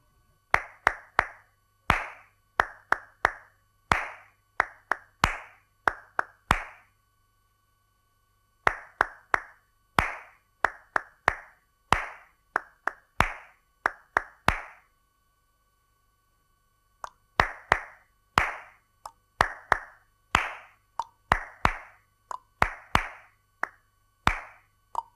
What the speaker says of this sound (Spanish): os propongo dos ejercicios más de palmas para practicar